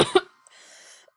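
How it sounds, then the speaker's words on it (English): A single short cough, then a throat-clearing rasp, close and loud, followed by a faint airy tail. "Wow, you just had to interrupt my coughing."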